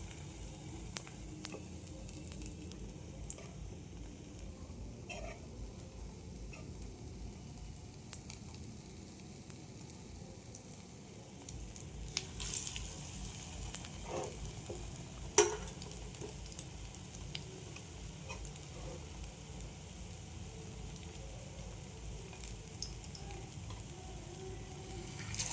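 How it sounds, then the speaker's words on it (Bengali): Potato batter pakoras fry in hot oil in a kadai, a soft, steady sizzle with scattered pops and occasional utensil taps, growing a little louder midway. "এইভাবে আলুগুলো আমি ভেজে নেব।"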